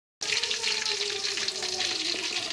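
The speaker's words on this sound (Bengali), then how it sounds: "ফুলকপি আলু ভেজে তেল তোলা হচ্ছে" Cauliflower and potatoes fry in hot oil in a home kitchen, giving a steady, even sizzle from start to end with a faint hum beneath it and no voices.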